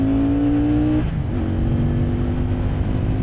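A Keeway Benda Napoleon 500 motorcycle engine pulls hard under acceleration, loud and close, its steady rising drone dipping briefly at a gear change before climbing again with heavy wind rush.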